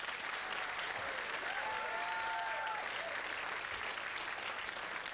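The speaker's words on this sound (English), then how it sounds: "A round of applause." Studio audience applauding on a 1992 episode of the British TV game show Blockbusters, a steady wash of clapping held at an even level throughout, with a faint tonal music sting rising briefly in the middle.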